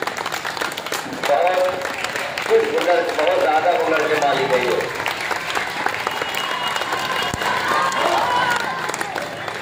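Steady applause and clapping from a large audience greets honoured teachers at a madrasa ceremony in Azamgarh, sustained throughout while someone speaks over the crowd.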